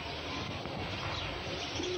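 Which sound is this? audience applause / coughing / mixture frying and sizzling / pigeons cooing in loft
pigeons cooing in loft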